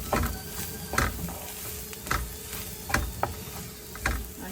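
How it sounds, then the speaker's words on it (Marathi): Ivy gourd (tindora) sautéed in a pan with cumin powder, coriander powder, red chilli powder and turmeric, giving a steady soft sizzle broken by about six scraping spoon stirs roughly a second apart, close and alone. "हे मसाले छानपैकी आपण परतून घ्यायचे आहेत"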